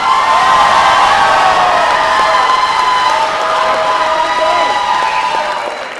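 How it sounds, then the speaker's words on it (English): A gala audience cheers, whoops and applauds after a girls' group performance, dense crowd noise filling the whole stretch loudly and steadily, easing slightly toward the end. "Now it's the audience time to cheer over her"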